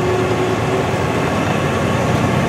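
Heavy truck or tractor with a non-synchronous transmission held near 1,500 RPM while the driver clutches into gear, a loud, steady low diesel drone with an unchanging rumble throughout.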